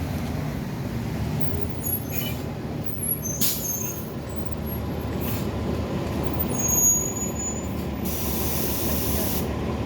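Heavy traffic passes along a city street with a bus lane, where a bus rolls by with a broad low rumble and sharp air-brake hisses and sprays, moderately distant and steady throughout.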